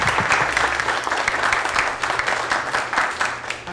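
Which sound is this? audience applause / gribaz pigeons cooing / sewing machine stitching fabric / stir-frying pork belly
audience applause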